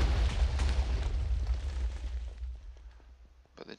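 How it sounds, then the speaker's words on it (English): A reactor explodes in the Minecraft Tekkit modded video game: a loud, sustained rumbling blast with crackling debris that slowly fades over a few seconds, ending with a brief sharp pop. "Again, we should trigger quite a significant explosion."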